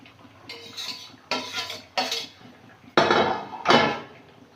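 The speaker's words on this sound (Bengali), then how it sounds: "এবারে উচ্ছে আর মাছটা দিয়ে দেবো।" Bitter gourd and fish go into a cooking pan in a village kitchen, with a series of loud clanks and scrapes of utensils against metal, several distinct knocks spaced irregularly, close by.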